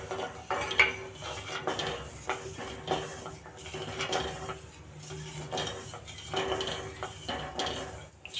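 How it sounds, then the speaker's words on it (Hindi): Sugar and water being stirred in a kadhai for halwa, a rhythmic series of metal scrapes and clinks from a spoon against the pan, close and moderately loud with no talking. "इसे चलाते हुए पकाएंगे।"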